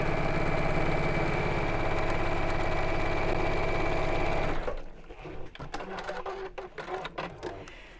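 Sewing machine stitching a quilted drawstring bag, running steadily and loudly for several seconds before stopping, followed by quieter handling and clicking sounds.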